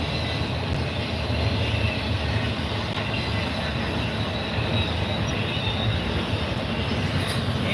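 A CSX freight train rolls past up close, its wheels squealing over a continuous loud rumble of railcars that fills the whole stretch without talk.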